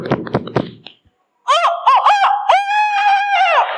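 A person imitates a rooster crowing with a loud, close, drawn-out warbling cock-a-doodle-doo, preceded by brief clattering sounds and a short silence.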